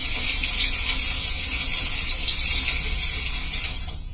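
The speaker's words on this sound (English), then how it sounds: "I'm going to hold the funnel in place, and I'm just going to pour this liquid" Liquid poured from a glass beaker through a funnel into a jug in a science lab, a steady hissing trickle running for about four seconds before easing off.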